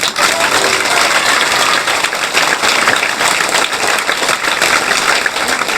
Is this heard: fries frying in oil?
no